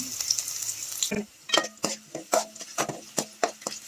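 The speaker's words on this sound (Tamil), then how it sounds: "இப்போ அதே கடாயில் 2 கரண்டி எண்ணெய் சேர்த்து எண்ணெய் காஞ்சதுக்கப்புறமா ஒரு 4 பல் பூண்டு பொடிசாக கட் பண்ணி வச்சுருக்கேன்" Chopped garlic, ginger and green chili frying in oil in a kadai for chicken fried rice, a soft sizzle under repeated sharp clinks of a ladle stirring against the pan.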